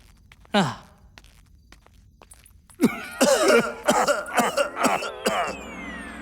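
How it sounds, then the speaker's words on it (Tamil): A single cough, then after a pause a burst of several coughs and throat-clearing sounds, close by, with some shuffling footsteps underneath. "அப்ப அந்த இருமல் சத்தம் யாரோடது"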